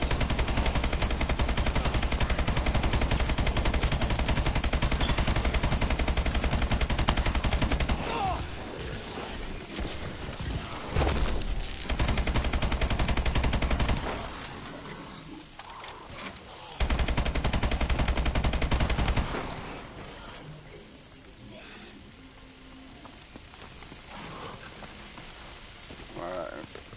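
Sustained rapid gunfire from an unlimited-ammo weapon in the Advanced Zombies video game, dense and loud bursts for several seconds with brief breaks, then a quieter stretch with scattered game noise.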